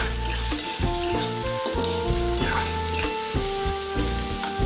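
Spices sizzle and crackle in hot oil as they are stirred for cabbage sabji, a steady close frying hiss layered over sustained tonal sounds, with no speech.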